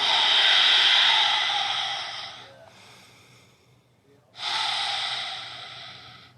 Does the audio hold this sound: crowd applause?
no